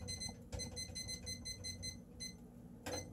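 A kitchen timer gives several short electronic beeps as it is set for half an hour, the tones standing out clearly over a low background hum.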